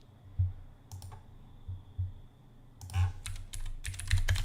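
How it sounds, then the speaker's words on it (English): Keys clatter on a computer keyboard in scattered short bursts of typing, close by and fairly quiet, with a low hum underneath. "Hear the typing when I type?"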